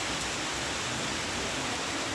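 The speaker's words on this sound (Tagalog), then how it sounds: "It's raining." Steady rain falls outdoors on a wet, overcast midday in a rural province during a typhoon, making a continuous, even hiss with no voices.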